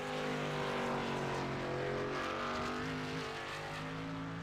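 Race car engine in a K&N series race at Watkins Glen, a loud continuous droning engine with steady harmonic whine, slowly shifting pitch as the car holds speed, close and alone without talk.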